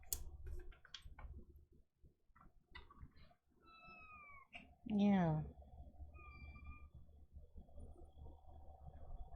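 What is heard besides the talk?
cat meowing like a balloon with air escaping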